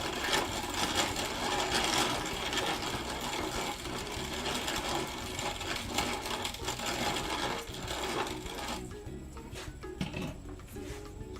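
A machine grinds animal feed corn with a continuous loud, rattling mechanical whir and clatter that runs throughout, close by, with no talking.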